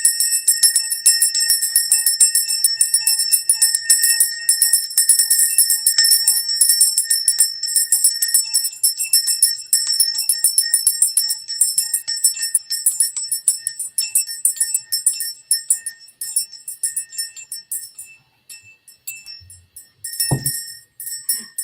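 A gold-plated bell is rung over and over, giving a bright, high, jingling ring that runs loud and steady for about twenty seconds, then fades to sparse tinkles ending in a soft knock.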